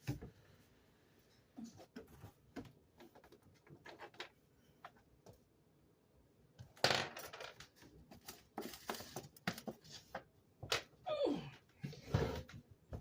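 Dropped dice clatter and roll across a hard surface in a quiet room, with sharp clicks and a burst of rattling partway through, followed by further scattered taps nearby.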